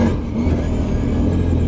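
Big, heavy Arctic Cat 1000cc 4x4 ATV riding in high range two-wheel drive, its engine giving a steady close low rumble with no voices.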